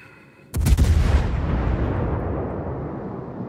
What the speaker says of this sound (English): So there are my first shots on the New York